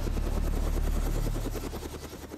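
Helicopter flying toward a mountain summit, heard from on board: a loud, steady rotor thump with rapid regular chopping pulses over a deep engine drone, slightly easing toward the end.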